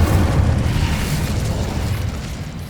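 Fire spell cast in the video game Hogwarts Legacy on PS5, a loud sustained roaring whoosh with dense low rumble lasting the whole stretch, steady without distinct pops and with no voices.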